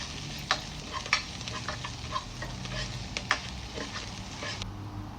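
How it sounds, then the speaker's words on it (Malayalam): Ginger and garlic sauté in a pan for a coconut-free moru curry, giving a soft continuous sizzle broken by repeated sharp clinks and scrapes of stirring, close up with no voices. "എന്നിട്ട് അത് നല്ല ബ്രൗൺ ആകുന്ന വരെ സോട്ട് ചെയ്യുക."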